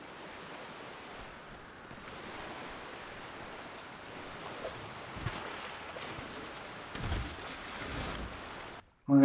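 Rushing river water in the survival game A Flame in the Flood, a steady broad roar of current and surf-like wash running throughout at moderate level, with a few louder surges near the end and no talk.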